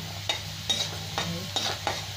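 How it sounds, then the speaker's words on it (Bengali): Bengali lentil dumplings (bori) fry in hot oil in a pan, a steady sizzle punctuated by five quick scraping stirs at regular intervals, close and moderately quiet. "আগে আমি বড়িটা ভেজে নিই"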